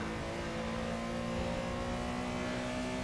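Race car engine in a racing video game at a Buenos Aires circuit, a loud, steady high-revving drone with sustained tonal whine and no pauses, held close throughout.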